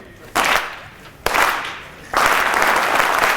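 A conference audience of young men claps in three sharp bursts, each starting abruptly and fading slightly before the next, with the final burst the fullest and most sustained.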